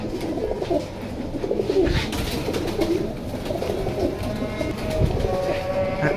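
Pigeons coo steadily throughout at a pigeon collector's loft, where silver pigeons are kept, with a rough, continuous murmur of birds close by and a faint background hum.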